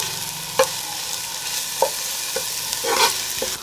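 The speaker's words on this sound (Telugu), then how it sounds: "అల్లం వెల్లుల్లి పేస్ట్ వేగింది" Ginger garlic paste frying in a pan after sliced onions, a low steady sizzle broken by a few sharp spoon clacks against the pan.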